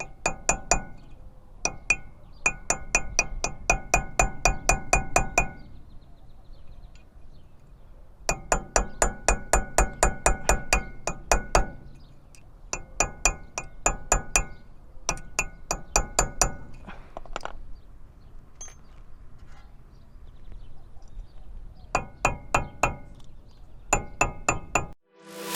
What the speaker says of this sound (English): you put it a little bit behind and just hit it with a hammer